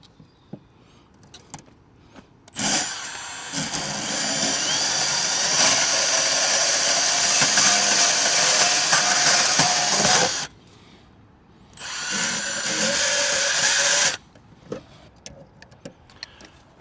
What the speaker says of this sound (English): lately, I've been using the bandsaw to cut these conductors